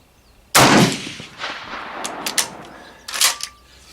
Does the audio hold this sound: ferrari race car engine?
no